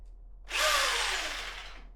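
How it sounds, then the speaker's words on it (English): Jigsaw with a worn blade cutting through bathroom floorboards beside a joist, a short, close, harsh buzzing cut that starts abruptly after a moment of quiet and tapers off, with no talk. "I'm just going to cut with the jigsaw"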